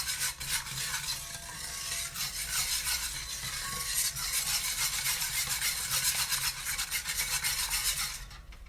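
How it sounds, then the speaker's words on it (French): Eggs and sugar whisked together in a bowl for Eid cakes, a steady close scraping stir that runs continuously for several seconds without pause, no voices over it. "On mélange bien le sucre et les œufs."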